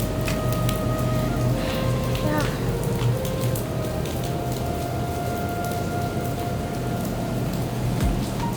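Steady rain falls outside a luxury hotel in Aerocity, Delhi, a dense, even hiss that lasts throughout, with faint distant city hum and a brief tone or two in the background.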